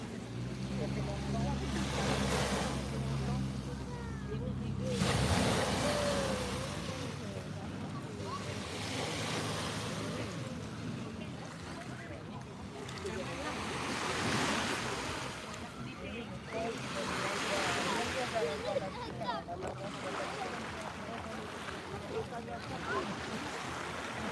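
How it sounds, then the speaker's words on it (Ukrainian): Sea waves roll onto a beach in France in slow repeating surges, each swell rising and easing back, with heavy wind rumble buffeting the microphone throughout. "хочу отут трошки звук моря записати"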